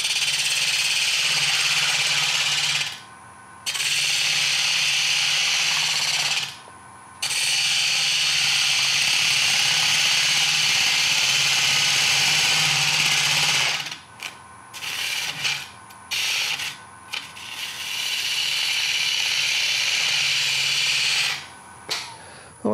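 A ring tool cuts long-grain wood spinning on a lathe, a loud continuous hiss and rasp of shaving with a low motor hum, broken by a few brief pauses where the cut lifts off.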